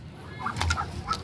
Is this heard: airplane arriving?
no